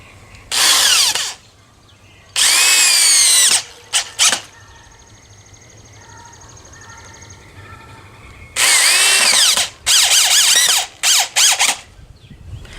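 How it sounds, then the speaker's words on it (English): An electric drill whines loudly in several short bursts while drilling pilot holes for a fire pit bench, separated by quieter stretches of faint mechanical noise. "I'm going to drill some pilot holes."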